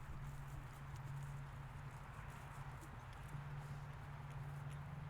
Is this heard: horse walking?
yes